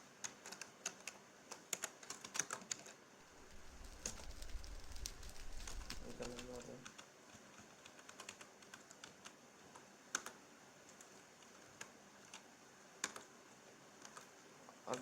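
A computer keyboard is typed on in quick bursts of close, crisp clicks, with a low rumbling noise in the middle and quieter scattered keystrokes afterward.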